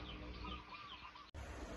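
A chicken clucks softly and steadily in a Thai home setting, with low background noise and a brief cut partway through.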